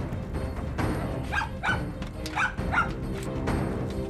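Several dogs bark in short sharp bursts, four or five yelps spaced irregularly over a faint background hum.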